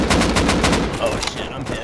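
Rapid bursts of gunfire from the survival video game Rust crackle loudly and continuously over a busy game soundscape, with a faint voice beneath.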